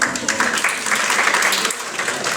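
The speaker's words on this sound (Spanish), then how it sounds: "Aplausos para ustedes." Applause fills the room at a study review session for a psychopathology exam, dense steady clapping from a group with no pause.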